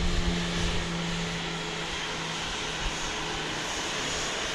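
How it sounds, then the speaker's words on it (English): Airliner from Columbus, Ohio arriving at Dallas Love Field at night, a loud steady engine roar with a low hum, heard from an outdoor spotting position. "just about to enter our shot is the flight coming in from Columbus, Ohio"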